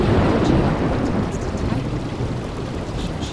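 Heavy rain with rumbling thunder in the sci-fi video game ELEA, a dense steady downpour close around the listener with deep rolling thunder underneath, no voices.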